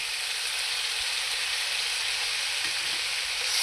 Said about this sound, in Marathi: हे सर्व टाकून व्यवस्थित असं हलवून घ्यायचं